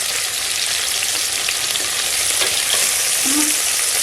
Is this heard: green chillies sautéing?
yes